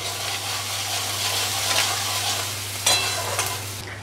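Onion, garlic and chopped green chili sizzling and frying in a little oil in a pan, with steady loud crackle, a stirring scrape near the end and a low hum beneath.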